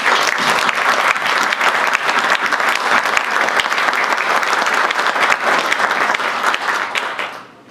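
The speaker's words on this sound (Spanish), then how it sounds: "Un aplauso para él." An audience at a book presentation at Mexico's Supreme Court applauds in a dense, sustained round of clapping that fills the room, then tapers off and fades out in the final second.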